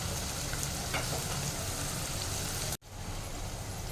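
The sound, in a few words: frying potatoes, onions and peas in a pan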